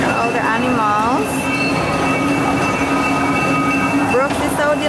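A train rumbles steadily with squealing wheels and a high whine, loud and close, while voices speak over it.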